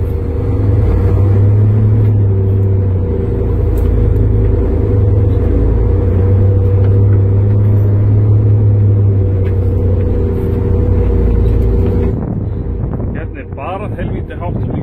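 A truck fords the Krossá river in Langidalur, Þórsmörk, in autumn, its engine a loud steady low rumble with wind buffeting the microphone throughout, easing off near the end.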